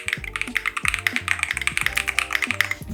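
Brisk typing on a stiff, clacky mechanical keyboard without gasket mount, with crisp, distinct keystrokes in a fast, uneven rhythm, close and clear with no voices.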